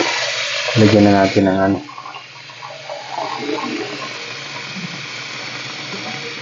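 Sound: pouring water into cassava ball mixture

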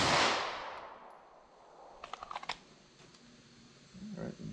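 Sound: subcompact semi-auto pistol fired into ballistics gel

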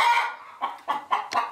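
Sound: hens clucking on a farm

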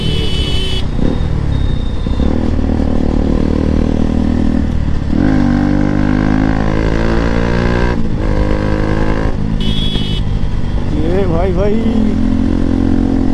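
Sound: motorcycle exhaust revving

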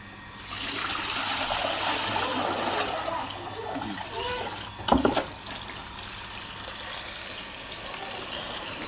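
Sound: running tap water

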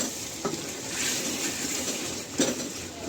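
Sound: stir-frying chicken with green chillies in a pan

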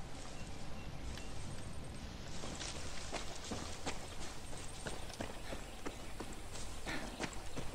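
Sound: horse hooves clip-clopping in Far Cry 6 video game

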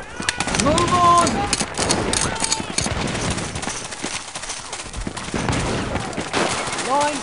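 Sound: musket line volley fire in video game Battlegrounds

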